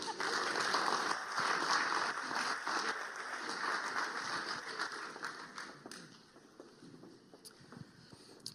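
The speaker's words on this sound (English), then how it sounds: "big applause, everybody, for our next panel" Audience applause at a conservation and animal welfare panel event: a dense, steady wash of many hands clapping that thins out and fades after several seconds into a quieter room.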